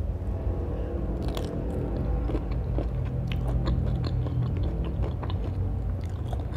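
Someone chews food eaten with bitter gourd, close and continuous crunchy bites and mastication over a steady low background rumble.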